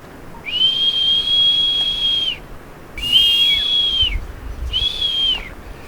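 Three long, clear whistles from a male blue-footed booby in courtship display in the Galapagos, each held steady for about a second or two with short gaps between, over a soft background hiss.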